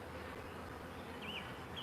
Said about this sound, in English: I'm hearing buzzing.